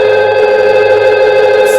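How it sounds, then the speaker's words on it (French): A VoIP desk telephone rings with an incoming call, a loud, steady electronic tone held without a break for nearly two seconds. "L'un des téléphones est en train d'appeler."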